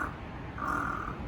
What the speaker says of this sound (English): Is this bird trying to attack me?